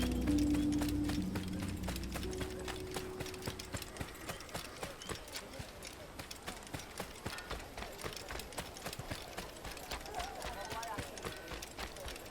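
Horse hooves gallop steadily in Assassin's Creed, a fast, even clip-clop rhythm running throughout at moderate level, with a low tone at the start and faint game ambience.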